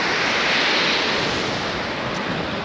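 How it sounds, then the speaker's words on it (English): Steady broadband rush of a river flowing below a waterfall at a tourist spot in Ecuador, a continuous loud wash of water with no pauses, heard alone without voices. "This is the river that the falls is on."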